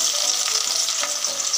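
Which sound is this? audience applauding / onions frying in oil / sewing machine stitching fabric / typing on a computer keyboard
onions frying in oil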